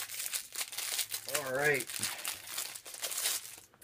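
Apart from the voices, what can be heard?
WWE Shop items being taken out of plastic packaging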